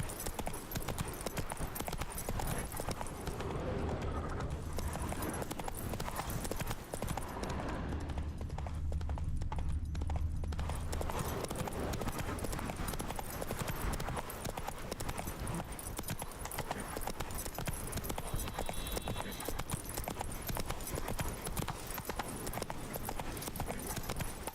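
Roach the horse trotting in The Witcher 3, a steady run of hoof clip-clops carrying on throughout amid game music and ambience, with a brief whinny and no talk over it.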